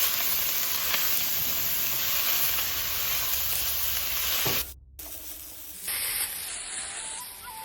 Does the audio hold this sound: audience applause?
no